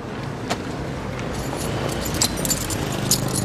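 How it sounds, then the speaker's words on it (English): Metal keys jangle and clink in a set of small bright rattles over a low background rumble, sounding close during an indoor drama scene. "Oh, Orla, give them back the keys, would you?"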